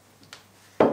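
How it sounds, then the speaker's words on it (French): A lid is set back onto a foie gras terrine with a single close clink near the end, preceded by faint small taps. "Remettre le couvercle."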